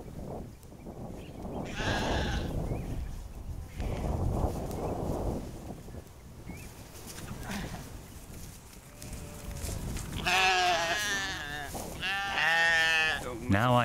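Sheep on a farm bleating loudly at close range, several wavering cries toward the end, with rustling, shuffling movement and a voice speaking between them.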